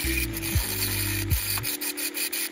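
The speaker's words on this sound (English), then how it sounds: "Since the star nut would not budge, it was best to cut it off in order to save the threads on the cylinder head." Rhythmic back-and-forth scraping strokes as a seized star nut on a BMW R80 cylinder head is cut off, close and steady, with a few repeated cutting passes.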